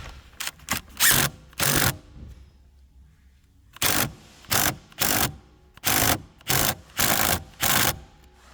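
A power drill drives a steering wheel bolt on a 2022 Nissan Rogue, whirring on and off in bursts about ten times with a pause in between, loud and close.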